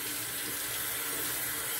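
Water runs steadily from a tap during rinsing after a shave with a shavette and soap lather, a continuous broadband splash with no pauses, fairly close.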